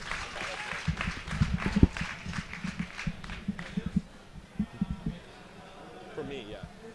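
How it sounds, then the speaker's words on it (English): Audience applause at an esports team selection event, a modest round of clapping from a crowd that fades out over several seconds with scattered footsteps and movement around it. "Round of applause for Sender."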